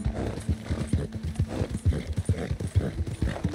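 A horse gallops off-road in the video game Red Dead Redemption 2, its hooves pounding out a steady, rhythmic clip-clop close by with a brief whinny, and no talking over it.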